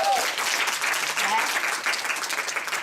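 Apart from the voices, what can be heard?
audience applause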